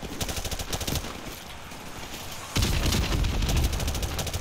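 Rapid automatic gunfire in Call of Duty Modern Warfare Remastered, a steady rattling stream of shots that grows louder and heavier partway through, with no voices.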